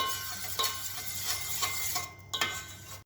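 Oil is stirred into boiling water in a pot: soft scraping swirls and faint bubbling sizzle with a few light metallic clinks, quiet and close, without speech.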